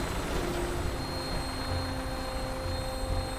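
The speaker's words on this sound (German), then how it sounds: "Da ist schon der Hubschrauber gemeint" Helicopter flying in the video game Fallout 4, a continuous, even rotor and engine drone with no pauses, at a moderate level with no talk over it.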